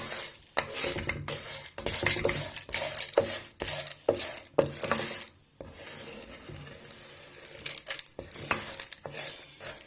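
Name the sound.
stirring popcorn corn kernels in a pot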